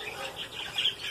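Australian parakeets, breeding pairs kept with their chicks, give a short burst of high chirping and chattering calls, close and moderately loud, with no one speaking.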